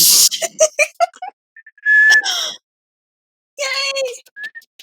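A person whistles short, high tones, including a brief rising note, mixed in with bursts of nearby talk and pauses of silence.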